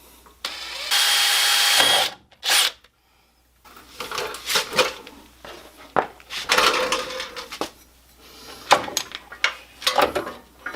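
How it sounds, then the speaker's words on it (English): A power drill whirs in a short burst pre-drilling holes during a Nissan 350Z LS engine swap, followed by scattered clanks and knocks of tools and parts being handled. "So I'm going to pre-drill my holes"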